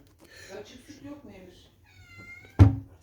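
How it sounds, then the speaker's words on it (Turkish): Cats meow indoors in a series of short, close, wavering cries, followed near the end by a single sharp, loud thump. "kediler ekibi de miyavlayıp duruyorlar"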